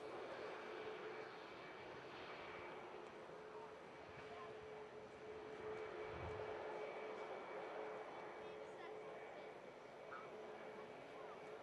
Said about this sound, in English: Nice striking Malta Air scheme. Arriving in from Milan.